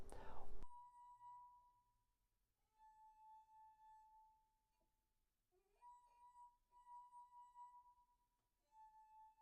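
An empty wine glass being rubbed around its rim, giving a clear sustained high ringing tone that comes in several separate stretches with quiet gaps between them. A brief louder burst comes at the start.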